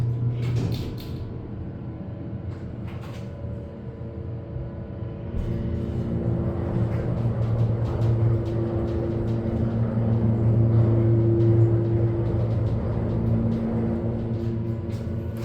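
Ride in a Montgomery hydraulic elevator at a Dillard's department store: a steady low mechanical hum and rumble from the car and pump, swelling slightly midway, with faint creaks and scuffs and no talking.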